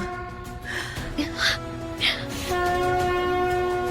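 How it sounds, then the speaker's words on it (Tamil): A conch shell's steady, horn-like drone sounds over gasps and murmuring voices, its tone swelling louder and holding toward the end. "அதான் சங்கு சத்தம் கேக்குதியா?"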